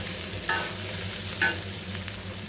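Bitter gourd and garlic fry in a pan with a continuous hiss and two brief scraping stirs, close by and without voices.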